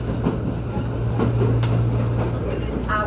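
A CPTM metro train on the run toward Luz station rumbles steadily with a dense low roar and faint rail clatter, a brief high squeal near the end, heard from inside the car with a faint voice underneath.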